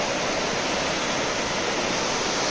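Iguaçu Falls roaring, a dense, steady broadband rush of falling water, loud and continuous with no other sounds above it.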